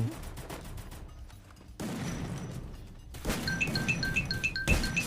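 Gunfire bursts from shotguns in a Free Fire match ring out in several sharp reports amid game noise and ringing chimes, fairly quiet overall with a player talking faintly in places.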